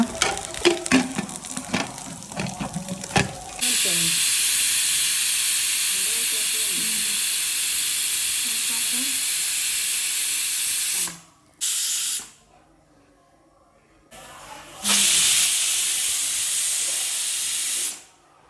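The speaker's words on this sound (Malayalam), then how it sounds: "ഇനി നമുക്ക് ഇതാ കുക്കറ് അടച്ചു വെച്ചിട്ട് ഒരു മൂന്ന് വിസിലടിച്ചിട്ട് കുക്കർ ഓഫ് ചെയ്യുക" A pressure cooker vents steam while tomato rice made from ration-shop rice cooks inside, giving a loud, steady hiss that runs for several seconds, cuts out, then returns, after some clattering at the start.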